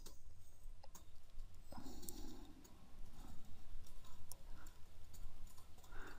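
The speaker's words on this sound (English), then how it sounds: "let's just type it in" Computer keyboard keys clicking in quick, irregular bursts while code is typed into an IDE, close and fairly quiet, with no talking.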